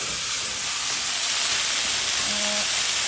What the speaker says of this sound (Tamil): ஒரு பொன்னாங்கண்ணி வறுத்து கொண்டிருக்கு